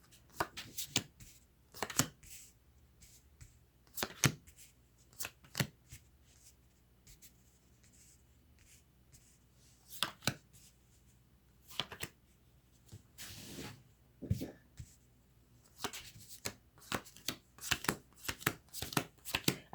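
Lenormand fortune-telling cards designed by Paris de Bono are shuffled close by and quietly: short papery riffles and slides come in irregular bursts, thickening into rapid runs toward the end.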